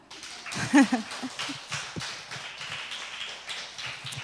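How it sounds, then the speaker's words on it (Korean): A church congregation gives a round of applause, a soft, scattered patter of many hands clapping at moderate distance, with a brief voice near the start. "박수 한번 칠까요?"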